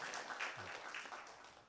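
Church congregation applauding the choir at a Sunday worship service, a soft, steady wash of many hands clapping at moderate distance for under two seconds, with no talking over it.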